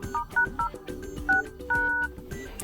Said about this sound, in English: let's open your phone dialer and now enter a secret code